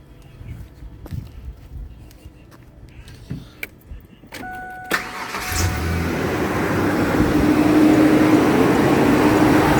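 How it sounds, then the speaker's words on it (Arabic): A car engine cranks and catches partway through, settling into a steady, loud running idle that continues to the end, preceded by scattered clicks and knocks from work on the vehicle. "هسه تروح تشغل السيارة."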